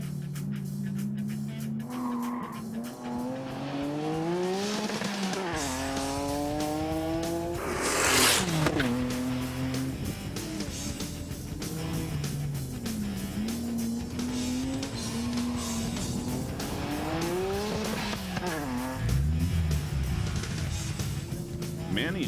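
A Toyota Supra race car laps a track, its engine note climbing and dropping through repeated gear changes and corners, loud and continuous, with a brief rough burst partway through.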